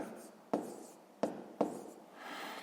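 A pen or chalk writes a number into a math table, three sharp taps and strokes spaced about a second apart over soft scratching, close and clear.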